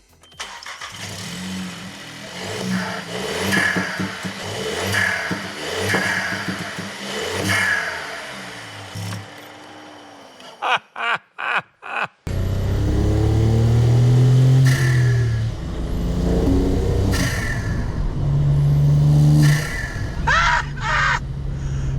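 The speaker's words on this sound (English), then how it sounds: "Oh, it's like such a tiny little turbo noise." A small turbocharged VW Up GTI engine revs up and down in bursts, with a short whooshing turbo note and a few sharp pops between throttle blips.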